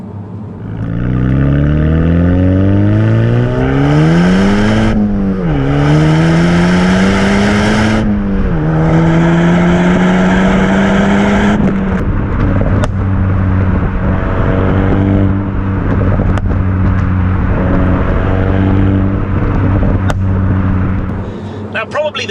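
A Renault Megane RS 300 Trophy engine pulls hard and close, its pitch climbing steeply through several quick gear changes before settling into a loud, steady high-speed drone.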